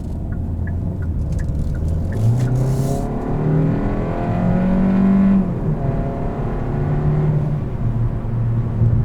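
A 2021 Kia K5 EX accelerates, heard from inside the cabin with a steady engine drone whose pitch climbs and then drops as it shifts gears, under constant road noise.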